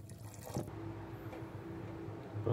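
Water pours into a cooking pot while a Tamil red cow pea and bottle gourd curry is made, a soft, steady liquid trickle with faint dripping, close by and continuous for a few seconds.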